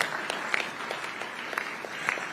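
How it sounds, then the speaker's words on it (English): An audience applauds steadily at the signing ceremony of the Kenya–EU Economic Partnership Agreement, a continuous mass of clapping with individual sharp claps popping out, fairly close and even throughout. "Let's give them another round of applause."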